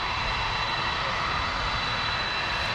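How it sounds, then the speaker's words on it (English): Air Force One, a presidential jet, taxiing in on arrival at Palm Beach, Florida, a steady loud broadband engine roar that stays constant throughout with no talking. "Air Force One is taxiing in now."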